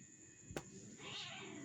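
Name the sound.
cats meowing and fighting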